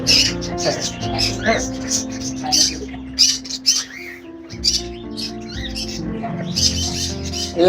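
Lovebirds and other caged birds squawk and chirp in a busy crowd at a large bird market in Rajshahi, loud and close, with people talking underneath.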